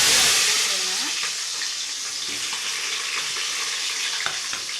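Green chillies sizzle in hot oil in a pan alongside cardamom and cloves, a steady close-up frying hiss that starts loud and settles slightly, with a few faint clinks as the ingredients go in.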